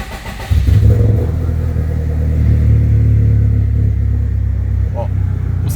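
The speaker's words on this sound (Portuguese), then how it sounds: "Vamos dar partida aqui no carro para mostrar para vocês." A Subaru car fitted with a Motec ECU starts and settles into a loud, steady idle that runs close and continuous after a brief cranking moment, with faint talk near the start.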